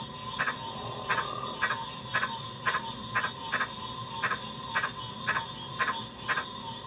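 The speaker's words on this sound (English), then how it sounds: "This is an advertisement call of a giant green tree frog from Papua New Guinea." A giant green tree frog from Papua New Guinea gives its advertisement call, a run of about a dozen short, sharp, knocking clicks repeated at a steady, evenly spaced rhythm over a faint hissing background.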